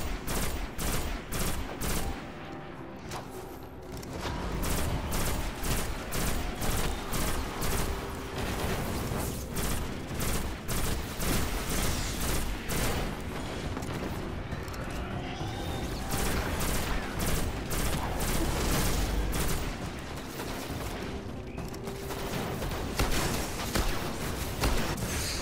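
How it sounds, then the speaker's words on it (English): Gunfire from shooting in the video game Destiny: dense, continuous rapid bursts of shots and mechanical weapon noise, loud and sustained throughout with brief dips, no talk. "I'll just keep shooting right here,"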